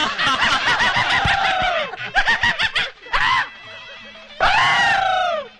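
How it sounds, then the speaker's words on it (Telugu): A man screams loudly and shrilly in a Telugu family comedy scene, with several long, wavering bursts of yelling. Short laugh-like yelps and brief gaps break up the screaming. "జురాసిక్ పార్క్ సినిమా చూసిన లెవెల్ అరుస్తున్నాడు"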